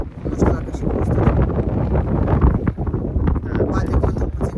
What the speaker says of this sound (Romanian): Bate vântul puțin cam tare, sperăm să ne auziți.